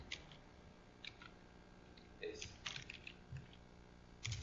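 Faint keystrokes on a computer keyboard come in short, scattered bursts, separated by pauses, in a quiet room.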